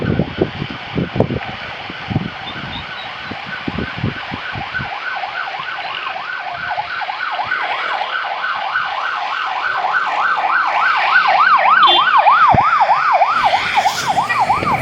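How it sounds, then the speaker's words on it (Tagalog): A wailing ambulance siren rises and falls steadily, growing louder as it approaches, over road traffic noise with a few thumps early on. "pinauna muna natin yung emergency ambulansya"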